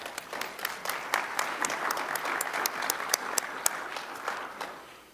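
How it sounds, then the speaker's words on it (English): Members at an annual meeting give themselves a round of applause, a thinner crowd whose individual claps stand out as sharp, fairly quick strikes that swell and then start to taper off. "I think you all deserve a round of applause if you want to give yourself one"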